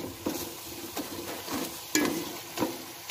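Tomatoes and onions with spices cooking in a pan for desi chicken curry, stirred and mashed with a utensil: a soft sizzle under a few separate scraping knocks, close and fairly quiet.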